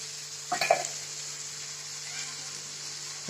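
Mashed eggplant bharit sizzling gently in oil in a pan, a soft, steady frying hiss with a short burst of stirring clatter near the start, heard alone without talk.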